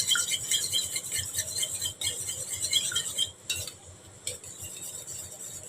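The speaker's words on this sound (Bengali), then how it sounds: "আমি এটাকে ভালো করে চামচ দিয়ে মিক্সড করে নেব।" A spoon whisking three beaten eggs in a bowl while making chow mein, producing continuous close, rhythmic metallic clinking and scraping against the bowl, with a couple of brief pauses.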